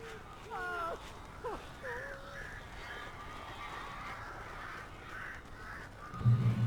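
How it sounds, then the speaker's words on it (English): Several harsh crow caws from the Alan Wake Remastered video game come in quick succession over a faint ambient bed, clustered early and spaced out later, followed by a low thud near the end. "These birds are weird."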